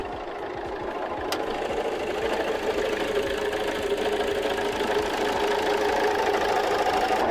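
A van engine, just started, idles with a steady mechanical knocking running through its low hum, close and continuous with no talking.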